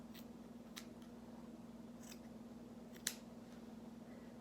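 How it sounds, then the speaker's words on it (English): Sharp scissors snip through the long strands of a yarn puffball for a winter hat craft, a few faint separate cuts spaced apart over a steady low hum, with no talking. "you can just go through and trim off the long ones like this"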